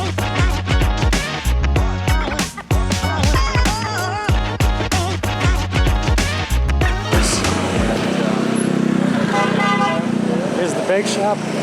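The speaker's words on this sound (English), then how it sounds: "I don't know if you heard that honking" On a busy street in Bali, a car horn sounds as several close toots over motor and traffic noise. The traffic then settles into a steadier roar.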